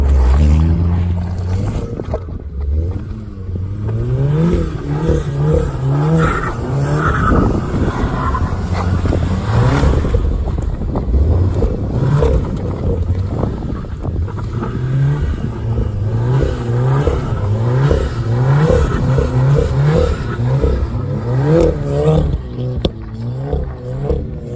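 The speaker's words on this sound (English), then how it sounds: "now we're gonna see how the Golf R launches in the snow" A Volkswagen Golf R Mk7 engine revs up and down repeatedly in snow. Its loud, close, rising and falling engine note continues throughout, with faint clatter.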